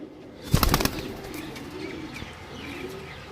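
Pigeons cooing close by, with a short burst of flapping wings early on, followed by soft repeated low coos over faint background noise.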